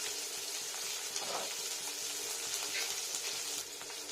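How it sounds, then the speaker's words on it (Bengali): Cumin seeds sizzle in hot oil as a tempering for a boneless chicken mixed vegetable dish, giving a steady, close, hissing fry with faint stirring ticks and no talk. "জিরে ফোড়ন এখানেই দিলাম টেস্টের জন্য"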